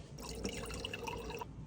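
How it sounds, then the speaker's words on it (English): Water is poured into a cup in a steady, soft splashing stream that runs for over a second, fairly quiet and close with a faint trickle throughout. "you want to get like a cup and put some water in it"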